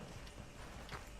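Soft, distant horse hoofbeats in Red Dead Redemption 2 clop along in a quick rhythm against a muffled background rumble.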